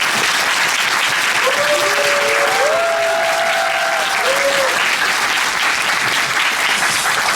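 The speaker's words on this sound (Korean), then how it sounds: "다시 박수 한번 부탁드리겠습니다" A theatre audience gives sustained, dense applause at a stage play's final curtain call. The clapping stays loud and even throughout, with faint tonal sounds briefly over it.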